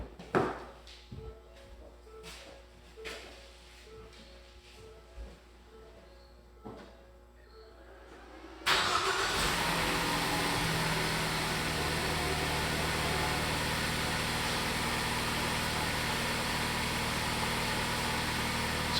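A car engine, checked with a ThinkDiag scan tool during a power balance test, is cranked and catches, then settles into a steady, loud idle that runs on alone for about ten seconds after a few quiet clicks and taps.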